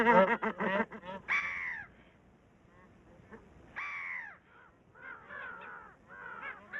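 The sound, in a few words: brown-headed gull calls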